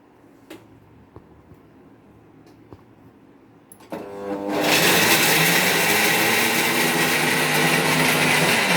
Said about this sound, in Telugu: ఇప్పుడు మనం మిక్సీలో తీస్తామండి